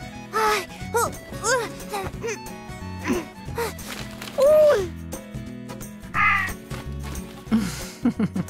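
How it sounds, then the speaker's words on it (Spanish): Crows cawing in a cold, wintry setting, several harsh rising calls in short bursts over the clip, mixed with background music and other sounds. "Llegaron los cuervitos."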